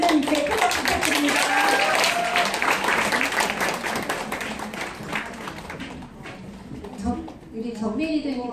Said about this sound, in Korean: 수고해 주신 우리 대표님께 큰 박수 부탁드립니다